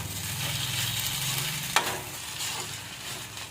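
A chilli and Schezwan sauce mixture frying in a kadai sizzles steadily while being stirred, with one sharp clink of the utensil partway through.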